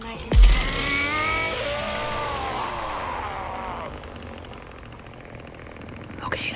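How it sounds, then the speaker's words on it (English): A chainsaw revving in the Texas Chainsaw Massacre video game, a loud sustained whining roar that rises and then slowly falls away, with a sharp thud at the start. "I guess he was revving up the chainsaw."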